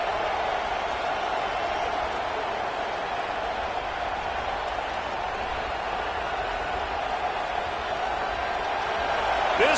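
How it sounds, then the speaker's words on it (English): A dense, constant roar of a large stadium crowd fills the whole stretch, steady and loud with no clear breaks. "This crowd bringing the energy and noise early."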